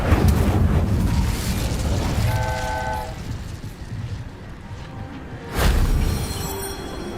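Incendio fire spell cast in Hogwarts Legacy, heard as a sudden loud fiery whoosh-burst near the end, standing out over a steady rumbling game backdrop with brief tonal chimes before it.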